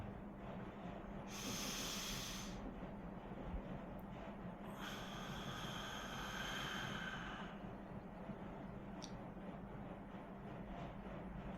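Slow pranayama yoga breathing: two long, soft hissing breaths drawn close to the microphone, the second one longer, with quiet pauses between and no talking.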